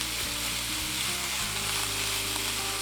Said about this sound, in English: break up the meat a little bit more and stir the meat around so it cooks evenly throughout the pan